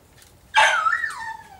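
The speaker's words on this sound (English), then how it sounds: "My dog's going crazy." A dog gives a single loud, close bark that slides into a whining, yelping tone and fades out over about a second, heard alone against quiet room noise.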